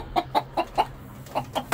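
Several roosters cluck in short, evenly spaced calls, about seven in under two seconds with a brief pause in the middle, close and fairly loud over a low background hum.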